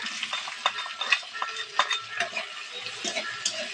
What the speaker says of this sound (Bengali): একটু নাড়িয়ে চাড়িয়ে নেবো আর হালকা করে ভেজে নেব